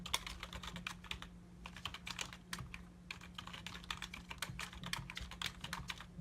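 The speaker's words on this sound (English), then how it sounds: "I'm typing the wording up" Steady, rapid typing on a computer keyboard, with quick irregular key clicks running continuously over a low electrical hum, fairly close and without talk.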